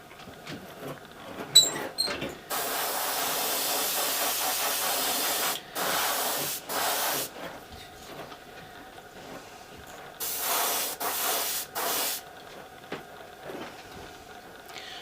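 Airbrush spraying paint with no base coat, steady hissing bursts of several seconds each separated by short pauses, close and clear with no talking.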